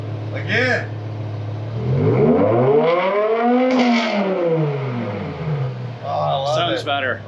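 A BMW E60 M5 V10 with a new exhaust idles, then climbs through one long, loud rev and falls back to idle. A quick throttle blip follows near the end, with people talking close by.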